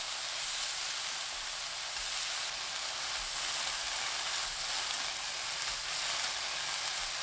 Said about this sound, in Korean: 숙주나물 300g 넣고 센 불로 1분 볶아주세요.